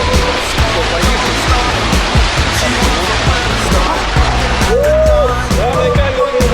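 A plunge down a water slide into the sea at a Turkish resort, rushing and splashing water throughout, close and loud, with brief voices partly under the noise.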